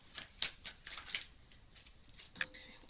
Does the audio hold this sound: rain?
no